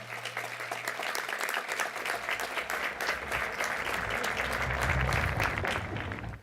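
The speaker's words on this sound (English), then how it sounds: "graduates, please give your families a big round of applause for the love and support they have provided you." A large audience at a high school graduation ceremony claps steadily and loudly, a dense sustained wash of applause that holds for several seconds before cutting off.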